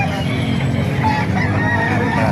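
Boston sweater gamefowl rooster, eight months old, crowing and clucking amid a dense, steady din of other chickens at a busy poultry market in Calumpit, Bulacan, loud and close throughout.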